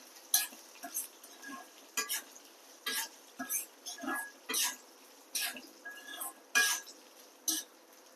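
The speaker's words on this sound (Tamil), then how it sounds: "சேர்த்துட்டு ஸ்டவ் ஆஃப் பண்ணிவிட்டு நம்ம இதை நல்லா ஒரு கிளறி விட்டுக்கலாம்" Coconut pieces stirred in a pan with the stove switched off, giving a rhythmic series of short, close scraping and rattling strokes separated by brief quiet gaps, with no frying hiss.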